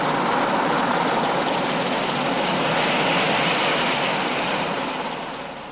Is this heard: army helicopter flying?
yes